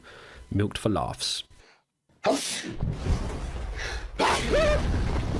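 A short burst of speech is followed by a silent gap, then a sudden loud, breathy sneeze-like blast with noisy voice sounds after it.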